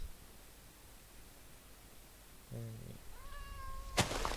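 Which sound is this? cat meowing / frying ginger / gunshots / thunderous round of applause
cat meowing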